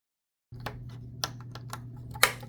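Plastic keycaps being slid onto the stiff keys of a Perkins Brailler, heard as a series of soft clicks and taps spaced unevenly over a steady low hum, with a sharper snap near the end.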